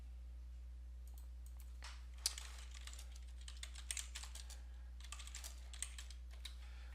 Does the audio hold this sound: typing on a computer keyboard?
yes